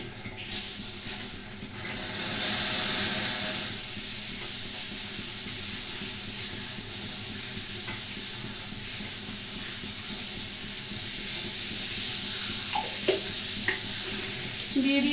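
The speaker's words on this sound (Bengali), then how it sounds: "আমার চায়ের জল মানে টকবক করে ফুটছে" Tea water boils hard in a pot on the stove, giving a continuous bubbling, hissing rumble with a short louder whoosh early on and a few light clinks toward the end.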